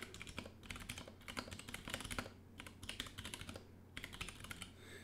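Typing on an HHKB mechanical keyboard fitted with 65g Zealios switches, rapid clacking keystrokes in uneven bursts, close and clear with short gaps.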